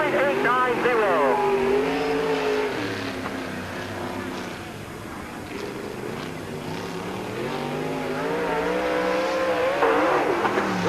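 Race car number 10, driven by Dick Taylor, running a qualifying lap at Peoria Speedway in the 1997 Busch 100, its loud engine note rising and falling steadily as it circles the short oval, with an announcer talking over it.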